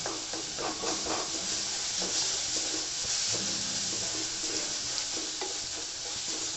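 Garlic and jackfruit seeds sauté in a hot pan, giving a steady, close sizzle and hiss with repeated scraping stirs throughout.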